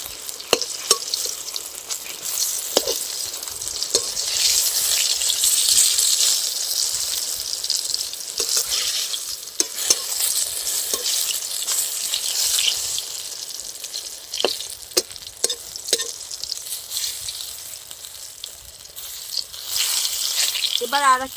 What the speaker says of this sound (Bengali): এবার আর এক পিঠ ভালো করে ভেজে নেব।